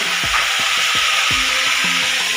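Food being set in hot oil to fry sends up a steady, loud sizzle that runs the whole time, with a few short knocks and scrapes of stirring in the pan.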